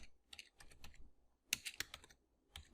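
A name typed on a computer keyboard: quick clusters of close, crisp key clicks in two short bursts with a brief pause between.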